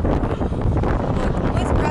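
Strong wind buffets the microphone outdoors in Krasnodar, a loud, gusty low roar filling the whole moment with no break.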